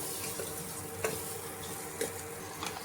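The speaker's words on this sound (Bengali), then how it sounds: "ভালো করে আলুটা ভেজে নেব, নাহলে কিন্তু মশলাগুলো পুড়ে যেতে পারে।" Potatoes frying with spices in a pan over low to medium heat for a rohu fish curry with ground black cumin, giving a steady soft sizzle with a few light stirring clinks, close by and alone.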